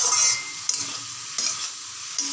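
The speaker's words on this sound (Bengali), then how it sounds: "এবার আবার এটাকে ভালো করে নাড়তে হবে, নুন হলুদটা যাতে ভালোভাবে শাকের সঙ্গে মিশে যায়।" Finely chopped radish greens with salt and turmeric sizzle in a pan as they are stirred, a bright continuous hiss broken by three or four quick scraping strokes of the spoon.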